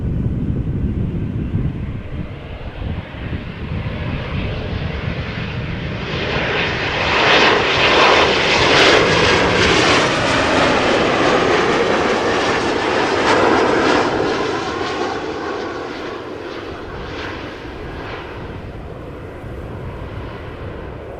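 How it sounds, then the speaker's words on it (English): A KLM Embraer 190 airliner arriving at Amsterdam Schiphol Airport roars steadily, the engine noise swelling as it passes nearest midway and then easing off, loud with some wind buffeting on the microphone. "This is KLM flight 1486, Embraer 190 arriving from Humberside."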